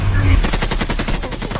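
Rapid gunfire erupts in a film scene, a dense, loud burst of automatic shots after a brief low rumble, continuing for over a second.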